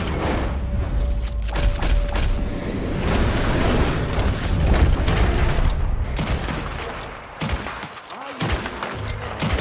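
Gunfire in Red Dead Redemption 2, a dense stretch of rapid shots and booms layered over game sound effects and a busy rumbling background.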